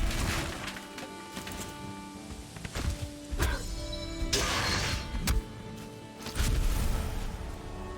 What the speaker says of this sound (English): You essentially repeatedly roll the logs into the birch till it mashes down into fine wood